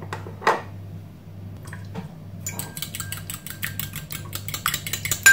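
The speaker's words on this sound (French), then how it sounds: "On mélange bien le tout comme ça" A spoon stirs sandwich filling seasoned with salt, pepper and parsley in a bowl, giving close, soft scraping and clinking that becomes a quicker, busier rhythm in the second half, with no talking.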